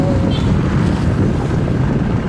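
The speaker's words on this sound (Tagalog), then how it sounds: "Super duper maulan." Heavy rain pours down in a dense, steady hiss with a low rumble, loud and close throughout with no pauses.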